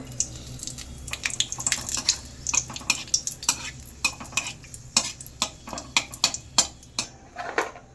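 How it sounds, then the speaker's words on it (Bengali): Whole dried red chillies and a bay leaf crackle in hot oil for a mix veg paneer dish, with a steady sizzle broken by frequent sharp spoon-and-pan clinks close by; no talking. "তেলটা গরম হয়ে গেছে, এবার আমি গোটা শুকনো লঙ্কা ফোড়নে দিলাম, তেজপাতা"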